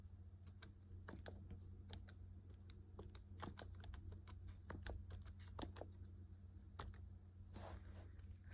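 Quick, irregular clicking of small calculator keys being tapped, close and quiet, over a low steady hum.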